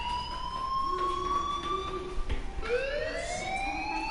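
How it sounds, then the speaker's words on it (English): Wailing fire alarm in Life is Strange, a loud electronic tone sweeping up and down in pitch, a sharp rise after a short dip, sounding close and continuous without talk. "Hey, do you hear that fire alarm?"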